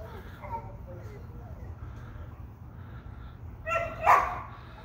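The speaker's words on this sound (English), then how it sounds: "Those dogs are not happy." Several dogs bark at a cat up a tree, faint at first and then a louder burst of barks near the end, with a person talking over them.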